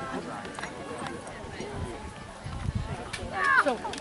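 Horse hooves clip-clop on a hard surface, a faint rhythmic clatter that swells toward the end as people talk over it.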